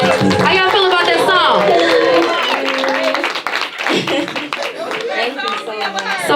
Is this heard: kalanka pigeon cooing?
no